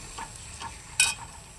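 Chital fish being stirred with spices in a pan, a few soft scraping strokes over a low sizzle, with one brief louder clink near the end.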